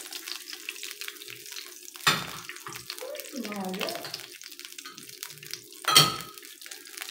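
An egg fries in a pan at breakfast, giving a steady soft crackling sizzle throughout, broken by two sharp clanks of a utensil against the pan.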